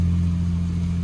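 A Lexus SC300 driving with its muffler removed and only the resonator left, giving a steady, loud low engine drone with strong low harmonics that holds evenly throughout, with rain conditions outside.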